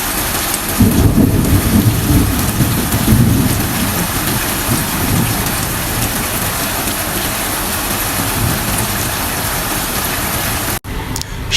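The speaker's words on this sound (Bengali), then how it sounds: "অনেক দিন পরে বৃষ্টি দেখতেছি গভীর রাতে" Heavy late-night rain in a storm over Dhaka, heard from a balcony, roars steadily with low rumbling thunder beneath, loud and dense throughout before cutting off abruptly near the end.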